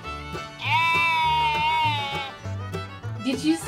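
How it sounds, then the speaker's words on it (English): A sheep's drawn-out bleat, wavering and fairly loud, rises over a bright nursery-rhyme backing track, followed by a short livelier bit of music; it is not clear whether a real animal or a voice is doing the bleating. "Sheeps go baa."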